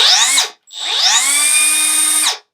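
A Milwaukee M12 Fuel 3-inch compact cut-off tool, model 2522-20, whines up sharply, stops, then spins up again to a loud high-pitched steady scream before winding down.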